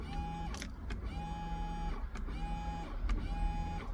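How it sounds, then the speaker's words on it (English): Small electric pump in a homemade flush camping toilet whirring steadily, with a repeating cyclic whine and faint clicks roughly every second, close by and continuous. "you hear the pump running."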